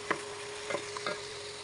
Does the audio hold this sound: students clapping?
no